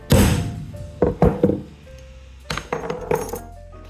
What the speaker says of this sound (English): Center your punch. Give it a smack.